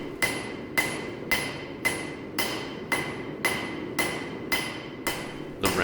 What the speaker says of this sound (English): I'm going to finish the billet the rest of the way with the hand hammer